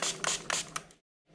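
Four quick hissing spritzes from a spray bottle onto melt-and-pour soap in a mold, in a fast rhythm, then a short silence before another spray begins.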